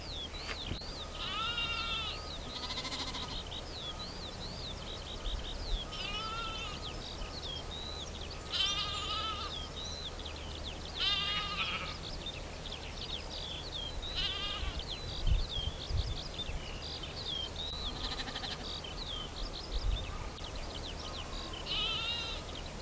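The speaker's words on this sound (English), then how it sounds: "And here are the lambs." Lambs and ewes bleat on Lundy island in the Bristol Channel, with wavering calls repeating every few seconds at moderate distance over a steady outdoor hiss.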